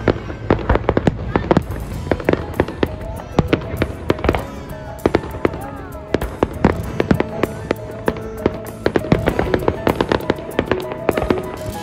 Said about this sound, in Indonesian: malamnya kita itu lihat kembang api di pinggiran pantai.